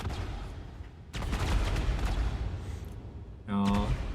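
Repeated explosions and gunfire bursts in the video game Project Silverfish, a dense rumbling barrage that swells partway through and ends in a loud tonal blast, with a voice talking over it.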